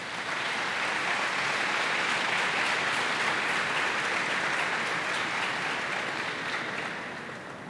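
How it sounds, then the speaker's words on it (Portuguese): A church congregation applauds together during a service, a dense, steady wash of clapping that holds at an even level for several seconds before thinning slightly at the end, with no voices on top. "Quem crê, aplauda ao Senhor Jesus."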